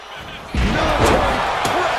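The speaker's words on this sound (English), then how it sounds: "Military press slam." Heavy slam impact from a military press slam in a wrestling video game, one loud broadband thud at about half a second followed by crowd and arena noise that stays loud, with a second smaller hit near the end.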